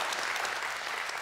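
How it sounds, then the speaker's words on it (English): A church congregation claps in praise during a sermon, a dense, steady wash of many hands applauding at once, fairly close and sustained throughout. "Let me hear a hand clap of praise today."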